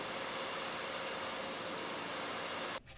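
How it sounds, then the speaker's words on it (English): A metal fitting buffed on a Scotch-Brite wheel in a workshop, a steady close abrasive hiss and whir that runs for nearly three seconds before cutting off abruptly. "I'm gonna buff this up on the Scotch-Brite wheel"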